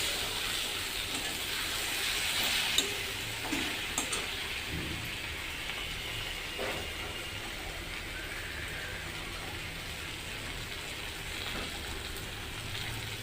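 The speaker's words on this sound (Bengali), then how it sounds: "বেগুন প্রায় চুপসে এসেছে, অর্থাৎ অনেকটাই ভাজা হয়েছে বলা যায়।" Eggplant fries in a pan for a Bengali bata fish curry, making a continuous broad, rain-like hiss with a few soft crackles and pops, steady throughout and unaccompanied by talk.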